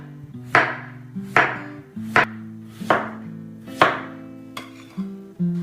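A knife slices a peeled purple sweet potato on a cutting board: six crisp, evenly spaced chops, each a sharp close thud, over soft steady background music.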